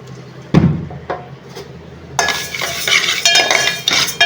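Moong dal being dry-roasted and stirred in a pan while preparing pesarapappu paramannam; a few scattered spoon-and-pan clinks come first, then a steady, close, crackly stir-roasting texture fills the rest, with no talking.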